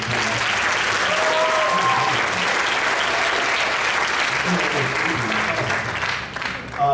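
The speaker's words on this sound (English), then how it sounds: "One more round of applause for that." After a sixth grade band piece, an audience breaks into sustained, dense applause with a steady crowd wash, loud and even, dropping briefly near the end before a final burst.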